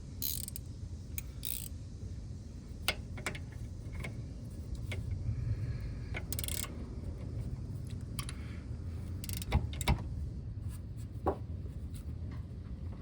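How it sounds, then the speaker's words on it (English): A box-end wrench works the final drive fill plug on a Honda GL1500 Goldwing Interstate. Small metallic clicks and ratchety ticks sound close, scattered over a low steady rumble, with no voices. "Use my box end again."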